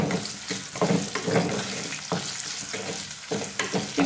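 Okra sautés in a pan as a green chili goes in, with soft sizzling and intermittent stirring scrapes close by, no talking.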